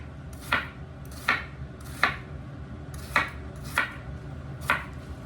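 A knife chops an onion on a cutting board in six evenly spaced, crisp knocks about two thirds of a second apart, close and clear over a quiet background.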